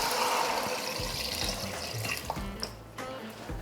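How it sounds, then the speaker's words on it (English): Water pours into an Instant Pot holding lamb gumbo ingredients and vegetable base, a close, steady splashing flow that trickles off with a few drips toward the end. "And then finally, just add in a little bit of water."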